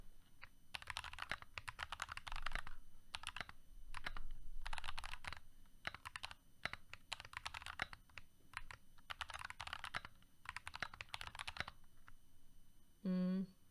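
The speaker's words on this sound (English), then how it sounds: "Just give you the vibe of a custom keyboard." Bursts of fast typing clack on a custom mechanical keyboard, recorded quietly, with short pauses between the runs. A brief chirp sounds near the end.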